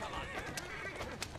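Horses neighing in Assassin's Creed Syndicate, faint whinnies with clip-clopping hooves in the background, a few short cries across a brief moment.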